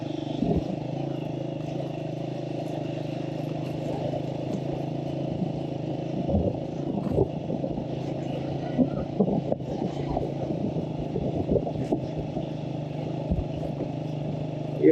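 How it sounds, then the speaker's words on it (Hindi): A motorcycle rides a rough, potholed mountain road, its engine a steady drone beneath clattering bumps and jolts from the uneven surface. "खड़े होकर बाइक चलानी पड़ती है क्योंकि"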